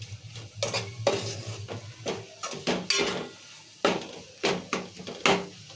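A utensil clanks and scrapes against a pot while mutton curry ingredients seasoned with turmeric and chilli powder are stirred, giving irregular close knocks over a faint sizzle with no talk.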